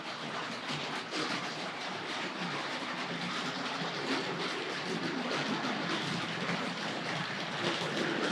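Tri-ang RS.2 model express passenger train tearing along a model railway track, a steady broadband rattling whir that holds constant and close for the whole stretch, with no voices.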